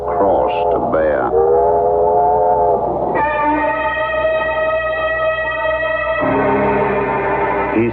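A train sound effect in a radio drama: a steady rumbling run with whistle-like tonal blasts that shift pitch partway through, continuous and fairly loud, with a brief voice at the start.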